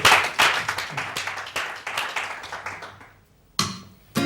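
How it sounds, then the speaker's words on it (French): An audience claps for a music group at a show, a burst of hand claps that thins out and fades, then a brief fresh flurry near the end. "Le lien, on peut les applaudir."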